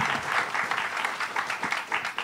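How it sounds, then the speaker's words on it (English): An audience at an arts talk claps together in a short, steady burst of applause that fills the room throughout. "Could we give her a quick round of applause?"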